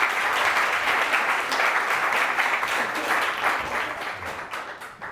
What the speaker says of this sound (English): Please give her a round of applause as she comes to the stage.